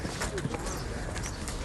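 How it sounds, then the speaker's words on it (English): Horse hooves clip-clop along a street in Mallorca amid busy outdoor ambience, with people talking nearby over the steady background. "Is that a horse?"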